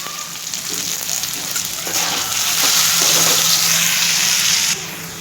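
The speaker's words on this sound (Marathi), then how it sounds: "बटाटा परतत असताना त्यामध्ये थोडंसं मीठ टाकायचं आहे" Potato pieces frying in a pan for sabudana khichdi, a loud, close, steady sizzle that swells into a stronger hiss midway and then drops off sharply near the end, with no talk.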